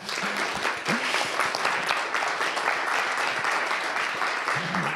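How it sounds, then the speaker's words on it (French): A conference audience at an entrepreneurship event applauds a speaker, with steady sustained clapping from a sizable crowd filling the whole five seconds and a few faint voices underneath. "je pense qu'on peut t'applaudir"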